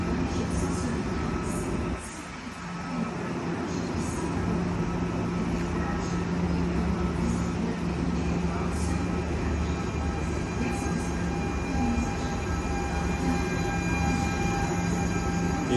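A French TER regional train of two coupled six-car units on the Lyon Part Dieu to Paris Bercy line rumbles steadily past at close range, with continuous wheel and rail noise and faint high squeals, and no voices.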